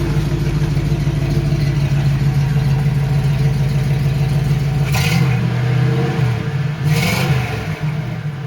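A warmed-up 1980 Oldsmobile Cutlass 442 idles with a steady rumble, then two quick throttle blips rev the engine briefly before it settles back to idle.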